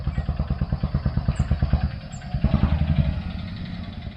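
A small motorbike engine chugs up a hill at a moderate distance, a steady rapid pulsing thump with a rattly clatter that swells and then fades slightly.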